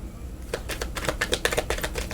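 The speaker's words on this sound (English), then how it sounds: "you had me get the damn deck and shuffle" A deck of oracle cards being shuffled close up, a quick run of rapid riffling flicks and soft slaps lasting a couple of seconds over a quiet room background.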